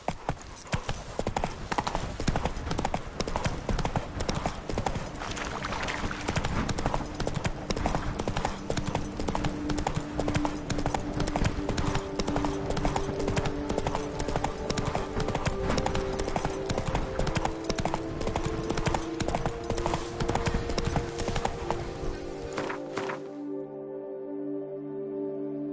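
Roach, the horse in The Witcher 3, gallops with loud, rapid clip-clopping hooves in a fast continuous rhythm over game music, with an occasional voice, until the hoofbeats stop near the end.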